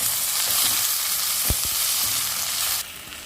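Chopped gongura leaves fry in hot oil for chicken gongura pachadi, a loud steady sizzle up close with a couple of sharp stirring knocks against the pan.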